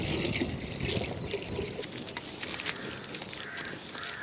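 Water is poured into a cooking pot for pongal in a village kitchen with a steady splashing trickle, while crows caw faintly in the background.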